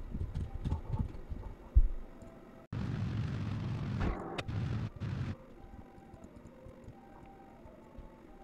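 During re-entry in Kerbal Space Program, a spacecraft breaks up with game explosions: an abrupt, dense roaring blast lasting a few seconds, with sharp pops inside it, then cutting back to quieter background sounds.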